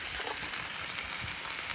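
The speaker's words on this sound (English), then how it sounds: "So that's beginning to sizzle." Food sizzles and fries steadily in a frying pan set over an open fire, a close, continuous hiss with scattered crackles and pops and no pauses.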